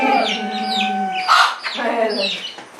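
Chickens cluck and squawk close by on a dairy farm around milking time, with layered calls and a sharp squawk in the middle over steady background noise.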